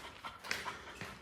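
A dog panting softly nearby, with quick breathy puffs and a faint whimper while climbing stairs inside a house, no talking over it.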